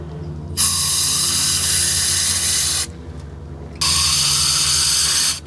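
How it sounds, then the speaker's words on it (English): An aerosol can of brake cleaner hisses in two long continuous bursts onto a Toyota Camry's rear brakes, about two seconds each, separated by a brief pause, loud and close. "I'm just going to spray some brake cleaner in there first."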